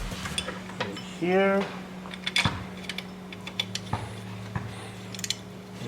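A ratchet tightens the 12 mm bolt holding the top bracket of the power steering pump on a 2012 Infiniti G37, giving quick close metallic clicks in short bursts with one brief spoken word.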